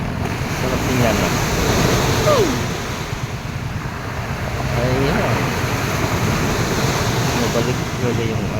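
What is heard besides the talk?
big sea waves crashing at the seaside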